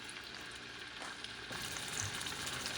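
Pork meat sizzles and fries in a preheated pot while making Puerto Rican asopao rice stew, a steady close crackle that grows a little louder partway through.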